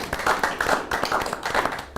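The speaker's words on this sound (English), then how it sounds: "Give them a round of applause." A studio audience at a panel debate claps for guests in a short, even round of applause, many hands patting fast and fairly close, with a faint voice mixed in.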